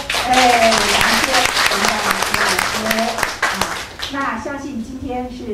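An audience at a book talk with the author at the National Academy of Civil Service claps loudly and steadily for several seconds while a voice keeps talking over the applause.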